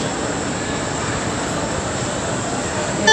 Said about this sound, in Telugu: వాళ్ళ ట్రైన్ అయితే మూవ్ అయిపోయిందండి